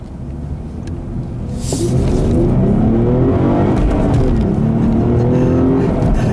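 A 2015 Ford Mustang V6 producing 300 horsepower accelerates hard along a back road, its engine rumble rising steadily in pitch and growing louder, heard from inside the car with no talking.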